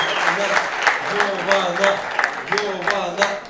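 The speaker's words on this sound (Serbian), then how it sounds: "Podržite Jovanu jednim velikim aplauzom" Applause and cheering from the crowd at a Balkan Fight event for fighter Jovana Arnautović come in rhythmic bursts beneath a commentator's voice.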